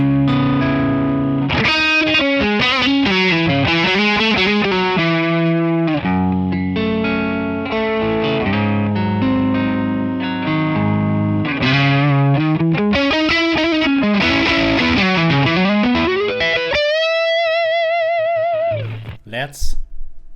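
Electric guitar played through a ToneX Mercury amp model on its drive channel with no added effects: loud, continuous distorted chords and riffs that end on a ringing sustained chord, then a brief sharp transient.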